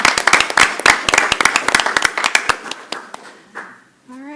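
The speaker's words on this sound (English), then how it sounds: "One more round of applause for our..." Applause at a school board of education meeting, a crowd clapping in a dense burst that thins out over a few seconds before a voice begins at the end.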